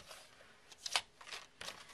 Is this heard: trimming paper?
yes